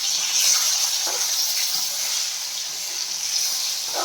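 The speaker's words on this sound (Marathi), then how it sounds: "मीडियम गॅसवर आपल्याला कंटिन्यू ह्याला परतत राहायचं आहे" Okra (bhindi) stir-frying in a pan over a medium gas flame gives a steady, close sizzling hiss, with a few soft clinks of stirring scattered throughout.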